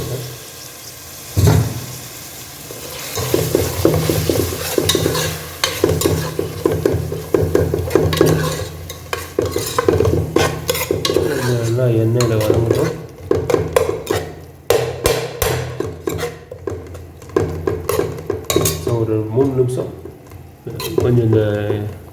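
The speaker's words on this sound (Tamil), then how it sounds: "டொமேட்டோ தக்காளி கொஞ்சம் எண்ணெயில் நல்லா வதங்கட்டும்" Tomatoes sautéing in oil for Ambur mutton biryani, loud sizzling and repeated scraping stirs in uneven bursts, with someone talking over much of it.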